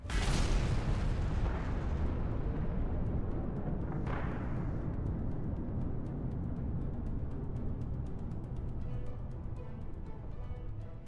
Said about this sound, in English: A little bit of a big explosion there.